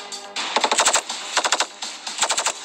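A light machine gun fires in three rapid bursts of sharp, evenly spaced shots, loud and close, separated by brief pauses.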